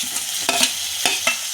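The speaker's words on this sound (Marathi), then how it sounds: "आता हा टोमॅटो घालत आहे मी" Tomato goes into onions frying for egg masala, followed by three or four quick spatula scrapes over a light, steady sizzle, close by and without speech.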